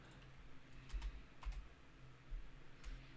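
Someone types on a computer keyboard while writing code. The keystrokes are soft and scattered, heard close but faint over quiet room tone, with no talking.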